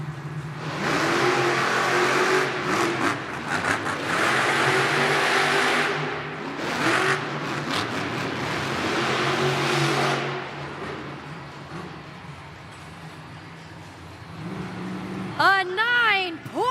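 The monster truck Jurassic Attack roars through a racing run at a Monster Jam event in Spokane, its engine revving hard and surging over a crowd, with an announcer talking over the din.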